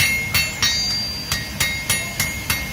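A hammer flattens hot iron for a Viking-style fork handle, striking about nine sharp, ringing blows at a steady, fairly quick rhythm, loud and close against a low background rumble.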